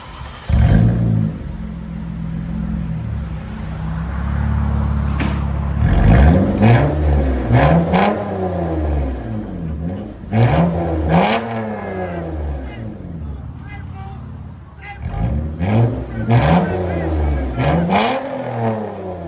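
Lexus ES 350 3.5L V6 with straight-pipe exhaust revved repeatedly, sharp rising blips climbing and dropping in bursts, loud and close over a rumbling idle, with people talking between revs.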